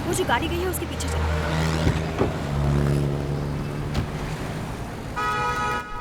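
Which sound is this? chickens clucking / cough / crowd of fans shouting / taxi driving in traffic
taxi driving in traffic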